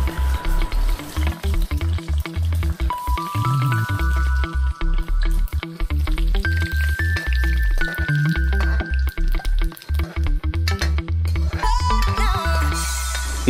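Continuous crackling sizzle of dry spices frying in hot mustard oil in a kadhai, close up, with occasional stirring scrapes and a few faint tonal squeaks.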